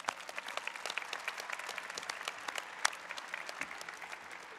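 An audience at a high school graduation ceremony gives a steady round of applause. The clapping is continuous and crisp, with one sharper clap standing out midway.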